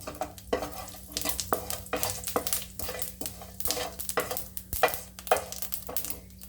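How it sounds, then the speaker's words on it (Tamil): Mustard seeds and cumin splutter in hot oil as they are stirred in a pan for tippili rasam, heard as rapid, irregular close crackles and pops over steady sizzling, with no talking. "கடுகு நல்லா பொரியட்டும் கொஞ்சம் சீரகம் சேர்த்துக்கலாம்"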